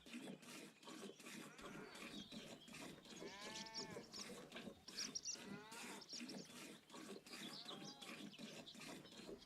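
Cows in a barn in the farming game Hof Bergmann moo and low repeatedly, several overlapping calls rising and falling at moderate distance over a steady rattling background, faint overall with no talk.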